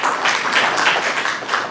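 Short burst of audience applause welcoming journalist Lisset Cuevas at a talk on women and communication, dense and steady clapping at moderate level throughout.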